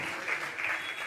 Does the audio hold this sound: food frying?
no